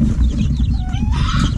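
Hens and young chicks of brown red game fowl clucking close by, a loud low clucking with brief higher peeps and chirps over it.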